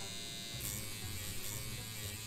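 An electric lady shaver buzzes in the video game Deponia Doomsday, a constant bright whirring drone that holds at even loudness throughout, with no talk over it.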